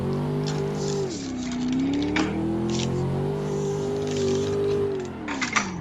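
A Corvette C6 coupe's engine in a racing video game holds a steady droning tone, dipping briefly as the revs drop near one second and then climbing again, loud and continuous with faint clicks on top.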